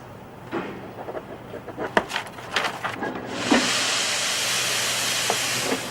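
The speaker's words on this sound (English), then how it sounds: "I sort of like the shushy noise it makes when the steam comes out." Steam from a laundry machine in a prison laundry bursts out in a loud, steady shushing hiss that starts partway through and runs to the end, following a few brief clunks and knocks.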